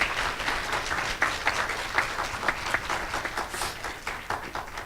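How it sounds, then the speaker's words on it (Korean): Audience applause at a 2018 spring-semester entrance ceremony for new and transfer students at Cyber Hankuk University of Foreign Studies, welcoming the university president: steady, dense clapping from a large crowd with a few sharper claps standing out. "큰 박수로 총장님을 맞이하여 주시기 바랍니다"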